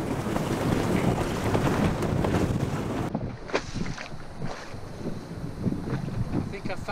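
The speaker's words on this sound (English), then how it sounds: "It's gusting up to 28 knots at the moment." Strong wind gusting up to 28 knots on a sailing boat roars and buffets the microphone, loud and dense at first, then easing into lighter gusts and rumbling.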